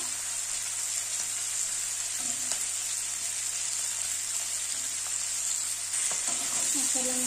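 Crab pieces frying in a pan with green chillies, a steady loud sizzle running throughout with occasional scraping stirs, no voices.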